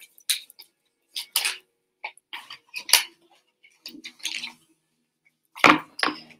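A deck of oracle cards being shuffled by hand: irregular bursts of crisp papery riffles and snaps, close up and separated by brief silences.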